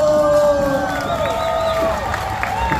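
Crowd at a Mexican folkloric ballet performance at Miami Country Fest 2024 cheers, whoops and claps in a lively outdoor swell, with high whistling tones rising over the continuous roar.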